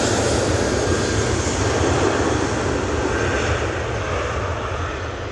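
A loud, close aircraft engine roars at Manchester Airport, a Boeing Dreamliner nearby, with a dense low rumble and steady broadband roar that slowly fades toward the end.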